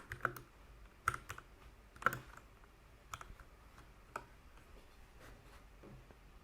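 Keys clack on a computer keyboard as a Homebrew command is entered, a sparse run of distinct close taps spaced roughly a second apart over a quiet background.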